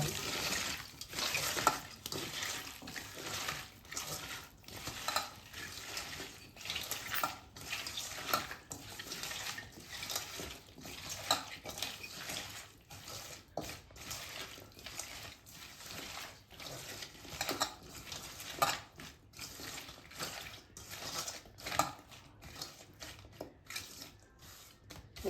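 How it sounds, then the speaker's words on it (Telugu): Native cucumber pickle being stirred and mixed in a pot, a steady run of soft wet scraping and squelching strokes at close range, fairly quiet and continuous with no talking. "మంచిగా అంతా కలిసేటట్టు ఇలా కలుపుకోవాలి"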